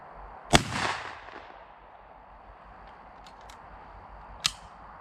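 A Stevens 555 Enhanced over/under shotgun with a cylinder choke fires once, a loud sharp blast followed by a brief echoing decay, then a second fainter report near the end.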